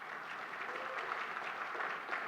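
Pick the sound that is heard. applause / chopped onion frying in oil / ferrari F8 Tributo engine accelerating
applause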